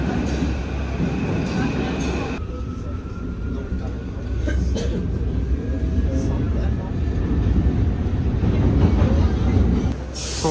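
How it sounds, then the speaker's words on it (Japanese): Paris metro train rumbling along the underground with steady low roar and rail noise, a faint high squeal of wheels, and voices murmuring in the carriage. "地下鉄で移動します。"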